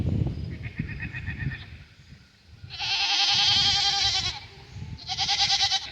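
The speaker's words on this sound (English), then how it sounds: "let's listen to all the goats holler once they see me." Goats on a woodland farm bleat and holler loudly in two long bursts, several animals calling together close by, after a fainter call at the start.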